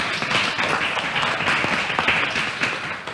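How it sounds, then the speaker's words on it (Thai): An audience at a Thai science park executive talk applauds the BIOTEC director with sustained, dense clapping from many hands, fairly loud and steady from start to finish with no speech over it. "ผมขอเสียงปรบมือให้กับดร."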